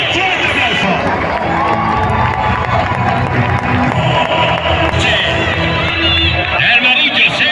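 A crowd in a bullring at a Fallas bullfighting festival in Valencia cheers and claps loudly and continuously, with shouts and a voice speaking over the din.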